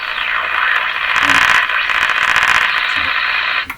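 A 1935 Rogers 7R622 shortwave tube radio with an outdoor antenna hooked up gives a steady, loud hiss of static and noise with no station, holding almost evenly throughout before cutting off abruptly.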